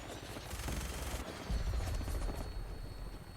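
Bursts of rapid gunfire aimed at the player in the post-apocalyptic game Fallout 4 rattle faintly and at a distance, set against a low, rumbling hum that swells midway.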